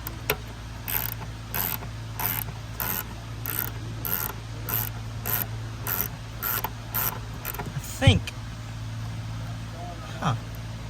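A socket wrench ratchets on a bolt on a Mustang, a string of quick, regular clicking bursts close up, followed by a couple of louder clanks near the end.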